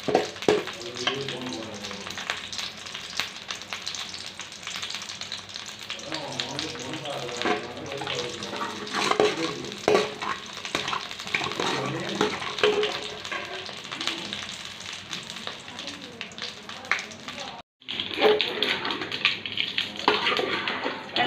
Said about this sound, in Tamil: கடுகு நல்லா பொரிஞ்சிருச்சு கருவேப்பிலை போட்டுக்கலாம்